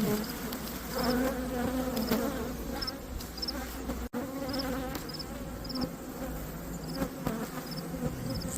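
Honeybee colony buzzing steadily and close during a hive inspection, a dense continuous hum from many bees with individual insects droning past.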